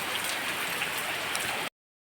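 Steady rain falls on a farm with cattle, a dense even hiss of drops on surfaces that is moderately loud and continuous before cutting off abruptly.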